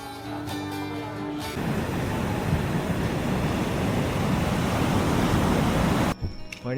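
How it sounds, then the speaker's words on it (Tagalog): Strong ocean waves crash and wash onto a beach, a loud continuous roar of surf close by with a brief pause of other noise at the start and end. "Lakas ng alon."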